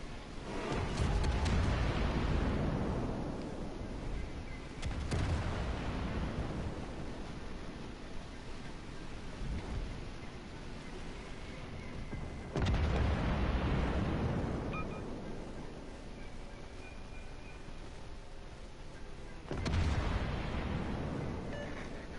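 Warship artillery in World of Warships: several deep booming salvos spaced several seconds apart, each trailing into a long rolling rumble like surf, over steady low background noise.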